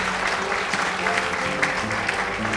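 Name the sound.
audience applauding visiting students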